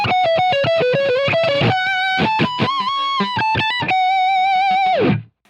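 An electric guitar played through a Pod Go valve driver overdrive, with fast distorted single-note runs, bends and vibrato sustained notes, ending in a held note that slides down and cuts off.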